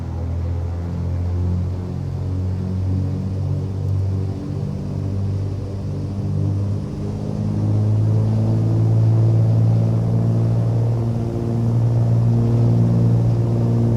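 Twin-engine Cessna 310R propeller engines in Microsoft Flight Simulator drone steadily and loudly, rising in pitch and intensity as the throttle is pushed up for takeoff, a sustained harmonic hum with no talking.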